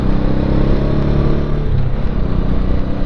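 An old Honda Shadow V-twin motorcycle rides along with a loud, close, continuous engine rumble and throaty pulsing that holds steady throughout, with no voices.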